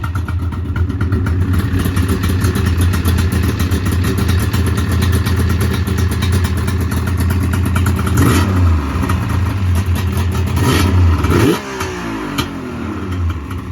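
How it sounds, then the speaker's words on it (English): A 2003 Yamaha Viper 700 snowmobile with triple SLP pipes revs hard nearby, its loud raspy two-stroke engine holding high revs before dropping sharply toward idle near the end. "I'm able to rev it up a little more without the clutch engaging"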